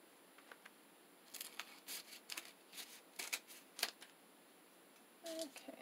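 Crisp paper snips and rustles come in short bursts, quiet and close, a few scissor cuts trimming magazine pages with small pauses between them.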